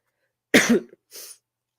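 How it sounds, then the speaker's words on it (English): One harsh cough sounds close by, followed by a quieter second cough a moment later. Silence surrounds both. "I am dealing with a little bit of a cough, so you might hear that"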